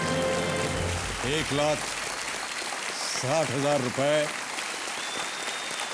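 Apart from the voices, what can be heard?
studio audience applause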